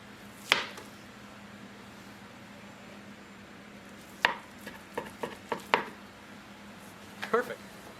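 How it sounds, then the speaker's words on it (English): A knife chops through raw hamburger meat on a cutting board, dividing it into thirds; a few sharp, close knocks come separately at first, then cluster in a quick run of chops, with quiet kitchen background between them. "Now we're going to cut the hamburger meat into thirds."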